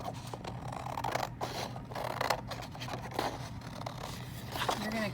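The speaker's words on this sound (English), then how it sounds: "you're going to cut along that line between the middle ground and the background" Scissors cutting out a paper art piece, a series of close snipping and scraping cuts with pauses between, under quiet room noise.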